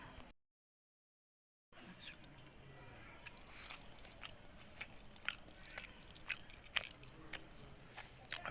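Someone eats parotta with egg mas at a food stall by Pudukkottai railway station, with soft chewing and crisp bites close up over a quiet, steady room hum after a brief silent gap.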